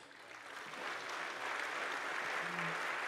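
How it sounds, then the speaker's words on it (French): Audience applause after opening remarks at a French conference introduction, a soft, diffuse wash of clapping that swells slightly and holds steady for about three seconds, heard from a distance. "Je vous propose de les applaudir."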